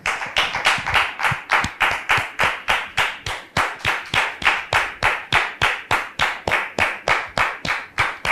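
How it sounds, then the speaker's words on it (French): A studio audience at a pastor's talk show claps for an arriving guest in a steady, rhythmic unison beat of about three claps per second, loud and close, with no talk over it. "Merci public de la recevoir sous vos applaudissements."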